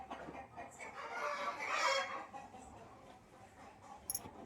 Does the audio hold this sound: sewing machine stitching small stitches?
no